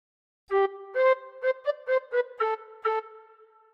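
A bright, breathy tin whistle plays a quick phrase of about ten notes from We Wish You a Merry Christmas with some small pitch steps, clear and close, with no talking.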